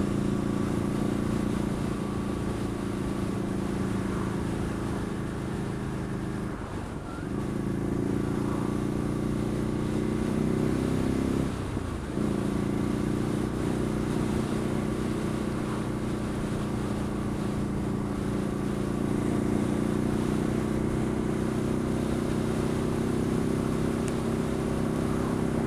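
Ducati Scrambler motorcycle engine and aftermarket exhaust hum steadily while riding, with two brief dips in revs like gear changes and constant wind rush.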